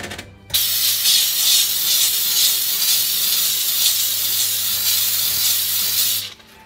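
A Homeright SteamMachine blasts steam onto greasy oven surfaces, a loud, close, continuous hiss that starts abruptly, holds steady for several seconds and cuts off near the end, with a faint low hum beneath.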